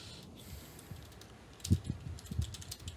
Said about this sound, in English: No, I was typing Kyle a message